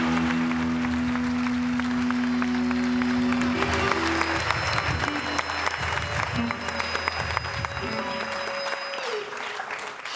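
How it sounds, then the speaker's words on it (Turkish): An audience applauds a singer before a live performance, continuous clapping blended with sustained musical tones and a few voices in the background. "Şimdi alkışlayalım."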